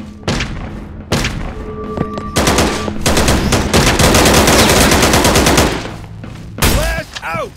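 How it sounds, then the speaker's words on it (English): Stun grenade and gunfire in the video game AceForce 2: loud bursts of rapid shooting and dull thumps fill most of the stretch, with brief pauses between and a shouted voice near the end. "Stun grenade!"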